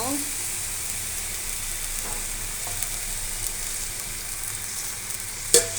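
Pointed gourd and jute greens fry in a pan, a steady, fairly quiet hiss of sizzling oil with occasional soft stirring scrapes and a sharper clink near the end.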